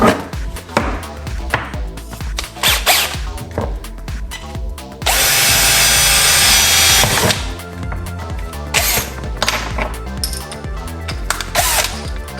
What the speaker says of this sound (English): So now what you want to do is just drill some holes.